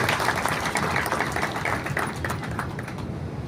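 An audience at a blood centre event breaks into steady, dense applause that carries on evenly and eases slightly toward the end.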